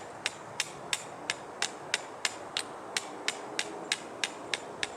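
Steady hammer strikes on a homemade greenhouse frame, about thirteen sharp knocks spaced evenly a little under half a second apart, close and distinct over a quiet background.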